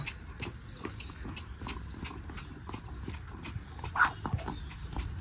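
A horse walks on a farm, its hooves clip-clopping in a steady, close rhythm over a quiet background, with one slightly louder knock near the end.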